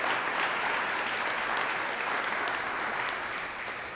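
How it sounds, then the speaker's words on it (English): An outdoor crowd at a Pride flag raising claps steadily for an honored assembly member, with an even wash of applause that fades slightly toward the end. "Let's give him another round of applause."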